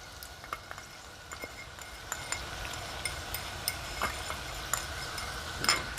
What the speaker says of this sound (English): you're just gonna keep whisking this while it's in the pan